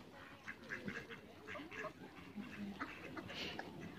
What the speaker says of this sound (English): they're coming, the geese.